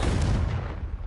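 A PS5 controller rumbling from the Confringo spell in Hogwarts Legacy, a dense booming burst of low vibration noise that fades out within a second.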